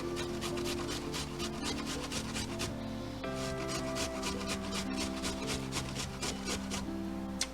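Carrots are grated on a cheese grater in a home kitchen, giving a steady, close, rhythmic rasping of quick repeated strokes with no one speaking.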